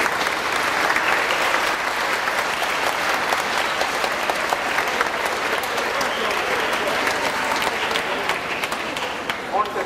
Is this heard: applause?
yes